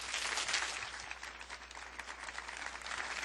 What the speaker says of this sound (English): I would like to please have everybody give a round of applause for the governor